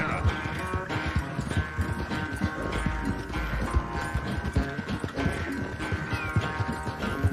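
A horse gallops in the video game Red Dead Redemption II, steady rhythmic hoofbeats running continuously under game music and ambience.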